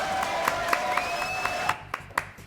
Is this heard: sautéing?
no